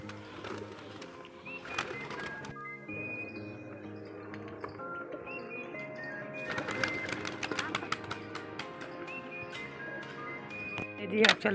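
Pigeons being fed millet coo softly in short repeated calls, mixed with other steady tonal sounds nearby.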